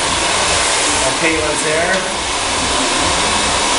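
Continuous loud broadband whoosh of a hair dryer with a nozzle blow-drying a woman's hair for volume, steady throughout with a brief soft voice over it.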